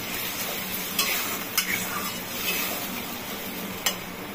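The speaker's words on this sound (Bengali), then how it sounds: "এই যে এতটা জল দিলাম, দিয়ে এখন কষাবো।" Potatoes and spices stir-fried in a pan after a splash of water, a soft steady sizzle with a few sharp clinks of a spoon against the pan.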